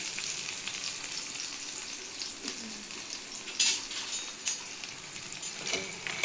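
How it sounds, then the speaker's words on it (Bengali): Potatoes frying in a pan give a steady close sizzle, broken by several sharp scrapes and clatters as a spatula stirs them against the metal. "তো এই যে আলু ভাজা হচ্ছে, রুটির সাথে দেবো।"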